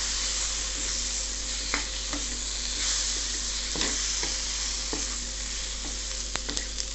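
Tomatoes are stirred into a sizzling prawn curry in a pan, giving a steady frying hiss broken by intermittent scrapes and clicks from the spoon.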